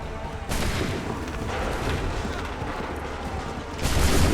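A massed musket volley in Assassin's Creed III Remastered: a dense, loud roar of gunfire that fills nearly the whole stretch, with a fresh heavy burst near the end and faint voices underneath.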